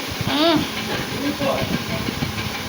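Black cumin, garlic and chili sizzle in hot oil with a steady hiss, while a voice talks over the frying throughout.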